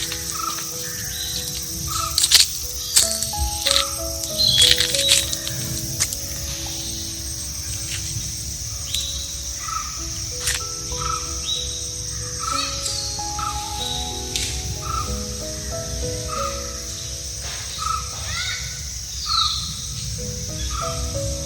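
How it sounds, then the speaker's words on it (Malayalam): A shrill, repeated call from an unidentified bird carries through forest at an elephant rehabilitation centre in Kottoor, Kuttichal, over a constant buzz of insects and crickets, with a scattering of other faint chirps and clicks. "എന്തോ ഒരു പക്ഷിയുടെ ശബ്ദം."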